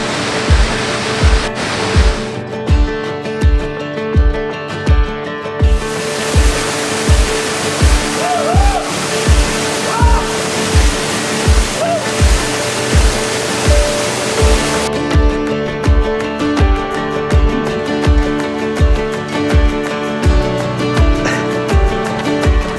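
Waterfall in Japan pouring with a constant rushing roar, joined by a regular clacking rhythm and a brief whistle-like tone, with no talk over it.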